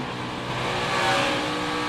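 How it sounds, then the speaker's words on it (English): A NASCAR Cup Series race car running out of fuel at Texas, its engine note wavering and surging unevenly as it sputters and misses, loud and close, with a brief swell partway through. "the engine starts sputtering and missing"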